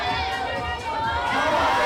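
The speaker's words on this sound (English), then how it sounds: "Crowd is starting to get behind him" A crowd at a climbing competition final roars steadily in support of a climber, a sustained wash of cheering and shouting that swells slightly toward the end, with a commentator talking over it.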